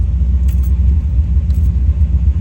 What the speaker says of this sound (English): So we'll shut the car off now.